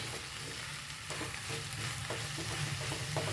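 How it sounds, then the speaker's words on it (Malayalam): Chana dal tipped into a hot pan for a Malayalam drumstick-leaf stir-fry, giving a steady close sizzle of frying with stirring scrapes and soft clinks throughout, no talking. "ഇനി ഞാൻ ഇതിലേക്ക് കടലപ്പരിപ്പ് ഇട്ട് കൊടുക്കുന്നുണ്ട്"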